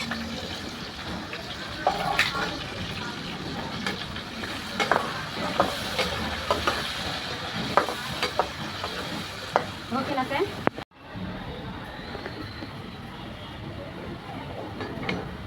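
Onions fry in a pan for hotel-style biryani, giving a steady close sizzle broken by scraping stir strokes and utensil knocks, until the sound cuts abruptly to a quieter hiss near the end.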